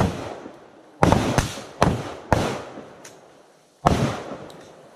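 Rifle shots at an outdoor live-fire range: five sharp, loud reports, one single, then a quick pair and a second pair after a pause, each with a short decaying echo.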